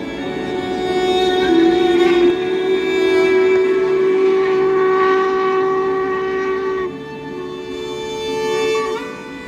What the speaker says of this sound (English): followed by the distant sound of the train horn